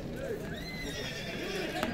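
At a horse market, a horse whinnies in a rising then falling call amid busy outdoor crowd noise and nearby voices.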